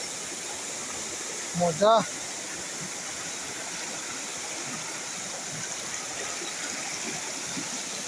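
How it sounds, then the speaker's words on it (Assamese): A mountain river streams along in a steady, close rushing wash that fills the whole clip, with a brief voice cutting in near the start. "আমি পাই গ'লোঁ এটা নদী পাহাৰৰ ওপৰত"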